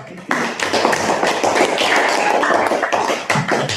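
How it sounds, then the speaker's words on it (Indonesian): Classroom applause for a student named Fernando, a dense patter of many hands clapping steadily at close range with some voices mixed in. "Oke, berikan aplaus untuk Fernando"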